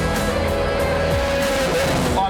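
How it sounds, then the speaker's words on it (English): Race cars run laps at Sydney Motorsport Park on a test day, their engines droning loudly and steadily with rising and falling pitch as they pass. "Cars are on track right now"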